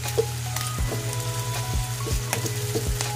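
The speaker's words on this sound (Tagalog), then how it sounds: "Natain lang natin yan guys. Hanggang matanggalan natin ng mantika yan." Pork sizzling in a pan as its fat renders out, a steady close frying crackle with occasional stirring knocks and pops, no talking.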